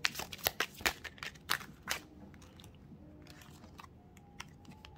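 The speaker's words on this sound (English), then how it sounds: "Let's get a couple more shuffles here." A deck of cards shuffled during a tarot reading: a quick run of crisp, riffling clicks up close over about two seconds, then fading to faint scattered ticks and quiet room tone.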